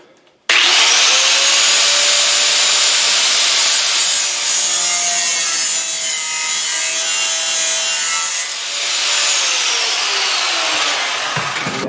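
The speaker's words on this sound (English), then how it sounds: "So I guess I have to take the grinder to it." An angle grinder cuts into a metal part of an MK Martin snow blower, starting abruptly with a loud, close, steady high-pitched whine and grinding rasp that holds for about eleven seconds.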